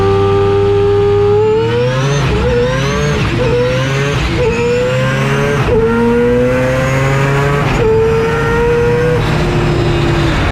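A four-rotor race car accelerating hard in a roll race: a loud, close, screaming rotary engine climbing through the revs, with quick dips at each gear shift before it winds up again.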